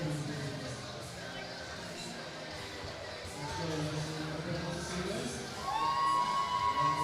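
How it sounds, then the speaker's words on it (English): Crowd at a powerlifting meet cheering and shouting, a mix of voices that swells louder toward the end, with scattered whoops over a busy indoor hall. "Leslie has a crowd definitely cheering here today"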